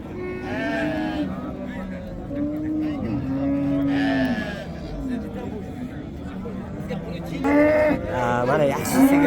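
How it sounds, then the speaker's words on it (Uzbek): Cattle at a crowded livestock market moo loudly in several long, drawn-out calls, one after another, over a constant background of chatter and people talking. "Mana yaxshi sigirlar bor ekan."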